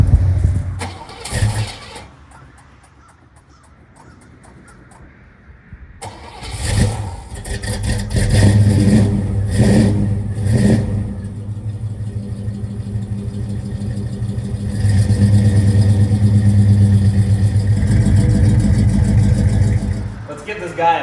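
An old Pontiac Trans Am cranks with a few sharp starter bursts, then catches into a rough idle, followed by repeated throaty revs and a steadier, louder running roar, with people talking over it.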